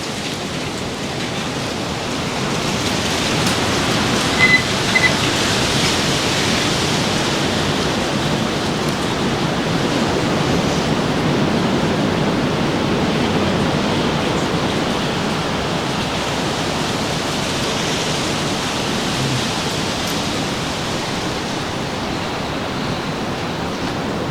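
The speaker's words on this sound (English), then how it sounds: "Dang, that wind is blowing, boy." Strong wind blowing outdoors, a steady and loud broadband roar that rises and falls slightly and runs alone the whole time.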